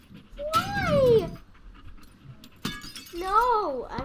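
A dog in the video game Teardown pants and whimpers in two short bursts with a quiet gap between them, the sound close and loud.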